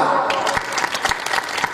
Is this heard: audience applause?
yes